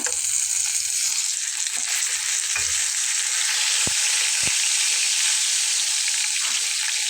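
Turmeric and spices sizzle in hot oil with cumin seeds in a pan for a Bengali fish and brinjal curry. The steady hiss runs throughout, close by, with a couple of brief sharp clicks and no talking.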